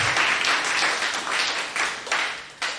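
A church congregation applauding during a service, dense crowd clapping in steady waves that swell and ease over a few seconds, loud and close.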